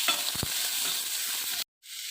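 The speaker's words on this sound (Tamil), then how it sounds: "நறுக்கி வச்சுருக்க தக்காளியும் இதோட போட்டு நல்லா வதக்கணும்." Chopped tomatoes with fennel seeds and spices sautéing in a pan, a steady loud sizzle with a couple of stirring scrapes near the start, then a brief cutoff before the sizzle returns.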